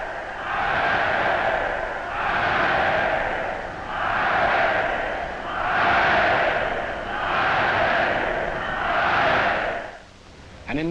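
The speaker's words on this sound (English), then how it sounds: "people were cheering another kind of event" A large crowd of people at a public event in wartime Britain cheers in repeated swelling waves, each roaring burst rising and falling about every two seconds before a brief drop at the end.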